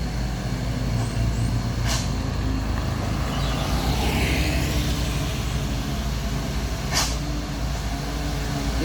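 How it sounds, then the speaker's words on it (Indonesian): A heavy tanker truck rumbles steadily nearby, with two brief hisses of air brakes releasing as it rolls down the Kedabuhan hill. "Terpantau satu unit truk tangki di sana akan turun di tanjakan Kedabuhan ini."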